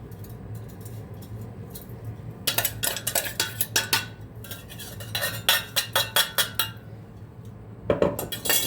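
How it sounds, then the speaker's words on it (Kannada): Curry leaf chutney powder ingredients being mixed in a steel bowl, heard as bursts of quick clinking and scraping strokes in rhythmic clusters, close and fairly loud over a steady low hum, with quiet pauses between. "ಇವಾಗ ಇದನ್ನು ಇದಕ್ಕೆ ಹಾಕಿ ಮಿಕ್ಸ್ ಮಾಡಬೇಕು"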